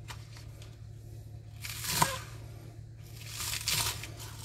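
Green vegetable stalks being cut up for kimchi, two bursts of crisp crunching and snipping separated by quieter handling noise, close and fairly soft.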